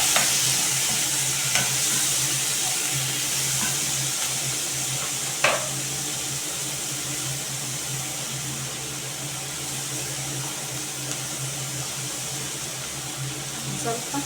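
Tomatoes sizzling and being stirred in a frying pan, a steady close hiss of frying with a few sharp scrapes and clinks of the spoon, running continuously without speech.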